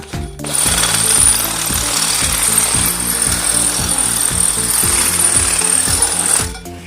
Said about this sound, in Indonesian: baru kita gunakan mata bor ini